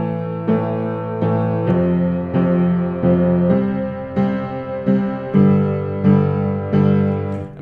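Piano left-hand accompaniment pattern for a song, played alone as steady repeated low chords and broken notes in an even rhythm, close and clear.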